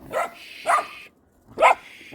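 Puppies yipping and barking in four sharp, close bursts with short gaps between them, including a clear pause before the last pair; no talking.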